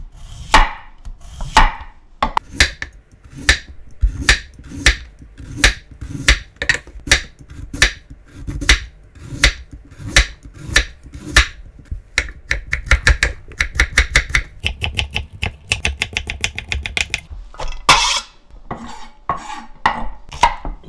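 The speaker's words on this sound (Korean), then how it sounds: "무채를 썰어 응. 칼로 응." A kitchen knife chopping radish into thin strips on a cutting board, sharp close knocks in a steady rhythm that quickens into rapid continuous chopping, with brief pauses between runs and no speech.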